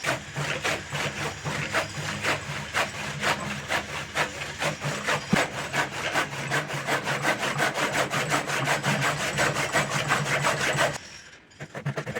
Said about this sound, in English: Use the hand saw to cut these.